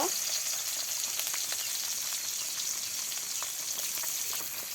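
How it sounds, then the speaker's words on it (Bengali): Chopped onion fries in hot oil for a broiler chicken curry in a village kitchen, giving a steady, close, even sizzle that continues throughout with no talking. "এবার ব্রয়লার মুরগির মাংস রান্নার জন্য পেঁয়াজ কুচি দিয়ে দিল"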